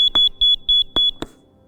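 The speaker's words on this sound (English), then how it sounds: "it will make a consistent beeping noise for students" A soft beep kickball, an audible target ball for adapted physical education games, gives a steady run of short, evenly spaced high electronic beeps at close range, with a few handling knocks between them.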